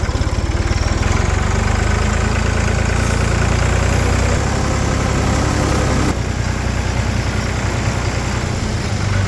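A Kawasaki JS 300 jet ski engine runs loud and close, a steady buzzing two-stroke drone that holds throughout, with a slight shift in pitch and rumble partway.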